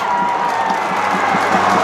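A Lotte Giants baseball crowd cheers a home run, with a continuous roar of voices, shouts and clapping filling the stadium at a steady, loud level.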